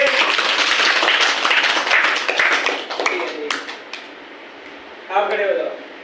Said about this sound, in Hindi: इसके लिए ताली बजाओ बच्चे के लिए।